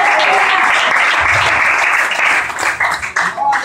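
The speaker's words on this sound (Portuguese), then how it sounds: "Palmas e glória a Deus," Congregation applause at a church service, a dense, loud wash of clapping that fills the space, thinning slightly toward the end.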